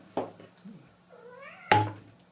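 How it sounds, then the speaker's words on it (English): A house cat meows once in a rising, drawn-out call, close by in a leather-crafting workspace, set between two sharp knocks from holes being punched in leather. "do you hear my cat?"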